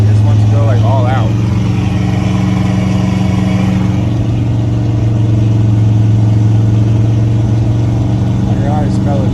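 A blue pickup truck's engine runs loud and close, holding a steady rumbling drone with slight rises in pitch as the throttle is barely touched, continuous through the whole stretch.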